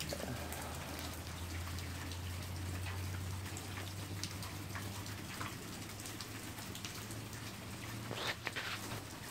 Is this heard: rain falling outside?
yes